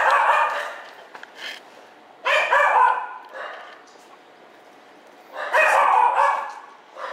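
A small dog barks in a few short clustered bursts separated by quiet pauses, close and fairly loud during a training session.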